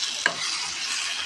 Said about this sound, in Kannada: ಈಗ ಇದನ್ನು 2 ನಿಮಿಷ ಸ್ವಲ್ಪ ಎಣ್ಣೆಯಲ್ಲಿ ನಾವು ಬಾಡಿಸ್ಕೊಂಡ್ರೆ ಸಾಕು.